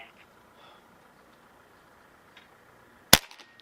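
A Niksan Escalade T .22 caliber air rifle fires a single pellet at the range, a sharp, sudden crack near the end after a quiet stretch, followed by a couple of faint small clicks.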